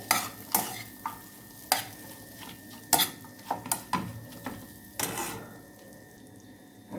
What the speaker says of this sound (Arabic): جبنا بقى عيش كده وقطعناه، وهنحطه فوق الزبده دي. نحمصه،